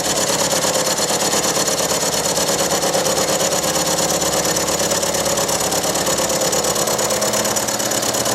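Carbide cutter machining an SNNC 250 turbocharger housing, a steady continuous whirring and grinding drone with a dense mechanical buzz, loud and unbroken throughout with no voices.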